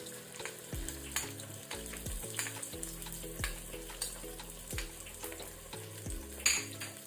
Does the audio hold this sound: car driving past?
no